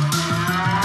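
Cartoon cows moo in short overlapping lowing calls, several quick successive moos on a farm by the tracks, close and fairly loud.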